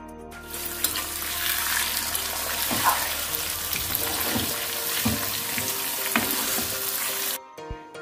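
Chicken liver hisses and crackles in hot oil, a loud, dense sizzle starting suddenly and running steadily, broken by occasional softer knocks and pops before cutting off near the end.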